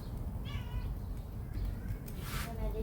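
A cat meows several times in short, close, rising calls, with a voice murmuring underneath and household background noise.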